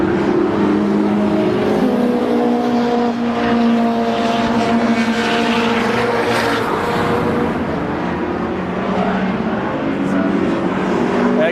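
Race cars run through the pit lane during a qualifying session at Brands Hatch, with a loud, continuous engine drone and shifting revs from several cars passing close by, with no talk in the clip.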